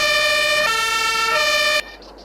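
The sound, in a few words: fire engine siren in a video game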